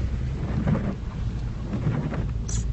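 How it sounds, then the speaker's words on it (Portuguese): Steady rain falls outside a cemetery wall with a low rumble of thunder beneath, a continuous hiss and patter at moderate distance with no voices. "Deu uma boa diminuída, mas continua chovendo."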